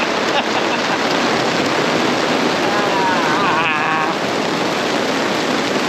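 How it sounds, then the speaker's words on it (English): Heavy rain pours down outdoors on the Fraser Coast, a dense, loud, unbroken hiss, with a short whistling or bleating call rising faintly through it midway. "It's a little bit more than just a shower."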